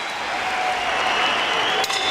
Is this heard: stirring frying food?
no